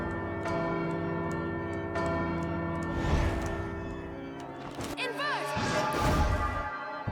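Repeated loud clangs from a bell in the video game Bloodstained: Ritual of the Night, struck twice with ringing decay, over steady background music and game effects.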